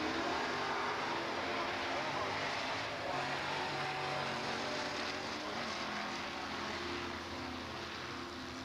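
A 1950s Chevrolet pickup truck runs a drag strip at a Super Chevy Show, its engine a faint, distant, sustained roar that fades slightly toward the end, with an announcer talking over it.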